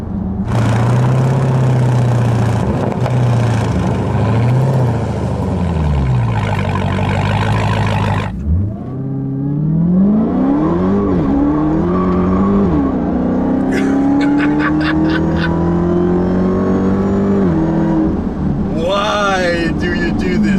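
A 2015 Dodge Charger Hellcat with a 6.2 liter supercharged V8 roars hard off a light, its engine climbing through gears with loud rising revs, a brief lift between shifts, and tire noise as it fishtails, recorded close from the cabin.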